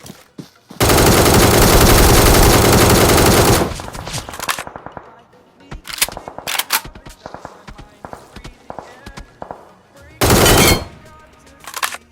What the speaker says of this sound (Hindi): उतने में मेरे को पीछे से बहुत गंदा फायर आता है